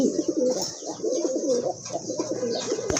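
A pair of Rasgolla pigeons with pitcher-neck markings coo close by, repeated throaty rolling calls one after another over faint background noise.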